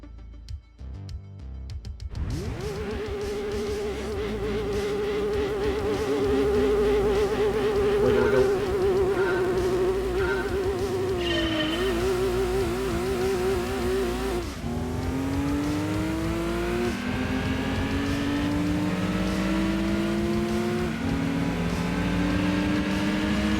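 Race car engines in Gran Turismo 2 on PlayStation at the start of a three-lap race at Special Stage R5, an 80's sports car cup, rising through gears with repeated revving climbs, loud and continuous.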